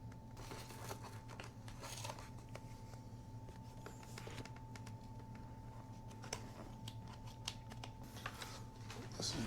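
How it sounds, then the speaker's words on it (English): Adhesive foam being peeled off a helmet speaker produces faint, close crackles and small tearing ticks, scattered irregularly over a low steady hum. "So just carefully peel that adhesive away."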